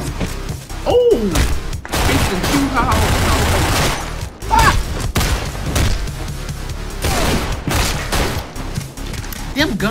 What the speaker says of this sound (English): Them guns is aggressive as fuck.